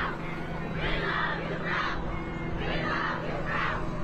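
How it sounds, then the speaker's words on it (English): Crowd of high school students chanting in rhythmic, repeated phrases while walking around Staley High School in Kansas City, Missouri, voices blended and steady across the clip with a constant background din. "Chanting, "We love you, Ralph," students walked around Staley High School in Kansas City, Missouri Tuesday"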